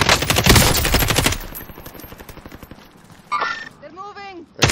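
Rapid automatic gunfire bursts in an online video game played as a duo, loud and dense for the first second or so, then lighter shots and game effects underneath, with a voice speaking over it.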